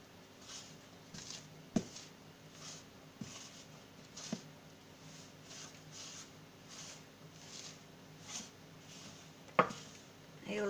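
Pumpkin scone dough being stirred in a bowl by hand, soft scraping and squishing strokes in a steady rhythm, close and quiet, with occasional sharper knocks of the utensil against the bowl.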